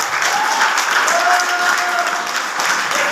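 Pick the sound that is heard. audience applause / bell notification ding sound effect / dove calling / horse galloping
audience applause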